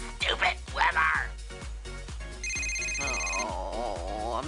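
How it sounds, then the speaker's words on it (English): A telephone ringing with a steady electronic ring tone in a home scene, starting after a short stretch of talk and continuing loudly to the end. "Oh, I'm too sad to even get the call for the phone."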